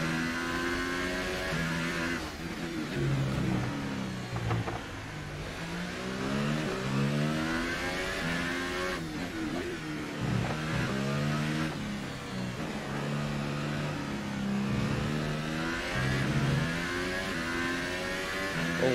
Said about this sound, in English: Is it just me or does this engine sound very weird?